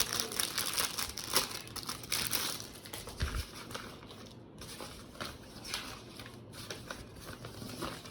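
Paper packing material from a Xiaomi Redmi 27-inch IPS monitor box crinkles and rustles continuously at close range, with steady handling noise and no talking.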